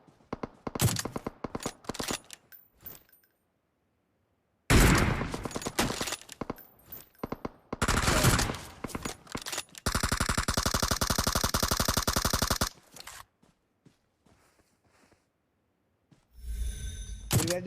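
Gunfire in the mobile game PUBG Mobile: bursts of rapid automatic shots separated by silences, including a long sustained volley in the middle, loud and close.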